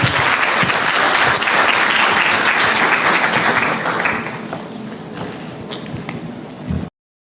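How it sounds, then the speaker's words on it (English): An audience at the Africa Employers Summit 2025 in Nairobi applauds a speaker being welcomed. The clapping is loud and dense at first, then drops to a lighter, thinner patter before it stops abruptly. "applause."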